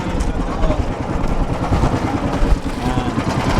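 A fishing boat's engine runs steadily during a night squid-fishing trip, a continuous low rumble with broadband noise, close and fairly loud throughout, with faint voices underneath.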